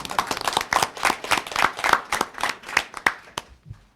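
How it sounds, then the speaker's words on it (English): A small group claps at a school board meeting, the claps sparse and distinct rather than a dense roar, fading out over a few seconds, close and moderately loud. "How about a round of applause?"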